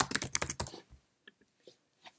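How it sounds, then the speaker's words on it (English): Quick bursts of keystrokes on a Mac computer keyboard, a rapid close clatter that stops abruptly, followed by a few scattered soft clicks in near silence. "So within two, let's type in admin."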